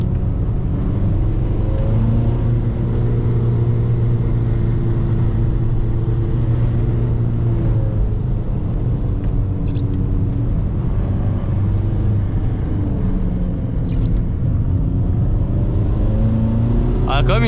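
SEAT Ibiza Cupra TDI diesel engine held at full throttle through a corner, a steady loud droning rumble with rising harmonics, mostly continuous with a few brief clicks.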